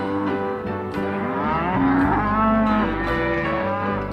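Cattle low and moo loudly and close in a yard during marking and branding on a property along the Birdsville Track, with overlapping calls running steadily throughout.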